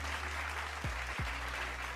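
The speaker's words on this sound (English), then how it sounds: "Let's applaud this man." Studio audience applause for a returning guest on a quarantine-era show, a steady, broad clatter of clapping that runs for the full two seconds with a low hum beneath it.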